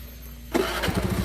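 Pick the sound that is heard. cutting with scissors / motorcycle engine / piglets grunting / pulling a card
motorcycle engine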